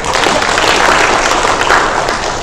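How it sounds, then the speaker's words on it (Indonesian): Audience applause at a West Java nurses' association regional congress, a dense steady wash of clapping filling the whole stretch at close, even loudness. "Tepuk tangan."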